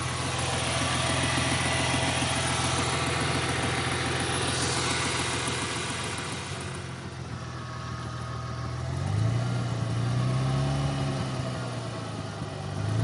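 A 2000 Ford Mustang engine idles with lifter noise and a misfire, a steady, close, uneven rumble with ticking texture, and the pitch swells briefly partway through, with no one talking.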